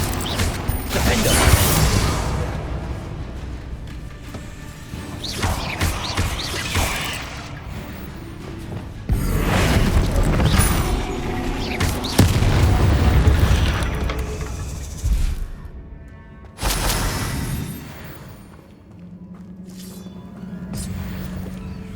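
A Confringo fire spell explodes in Hogwarts Legacy during a Feldcroft catacomb fight: several loud, booming bursts rise out of a dense wash of creaking, grinding mechanical game sounds, with no voices.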